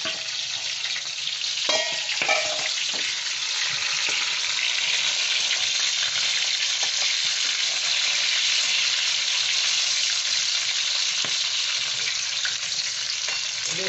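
Corn kernels frying in hot oil for crispy corn, giving a continuous dense sizzle close up, broken by scattered sharp pops and crackles.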